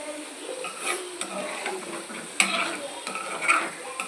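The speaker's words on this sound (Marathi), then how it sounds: "पनीर भाजायला ठेवले तेलात भाजून झाले पनीर" Paneer fries in hot oil in a pan, giving a soft sizzle broken by scraping stirs and a few clinks of a utensil against the pan, close and moderately loud, with no voices.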